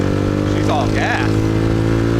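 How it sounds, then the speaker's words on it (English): A Vespa scooter speeding along a busy Saigon street, a loud steady engine drone close by with a brief rising rev, under constant traffic noise. "She's literally cranking that Vespa down."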